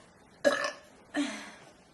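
Two loud, close burps come one after the other in a quiet room, each a short throaty belch lasting about half a second.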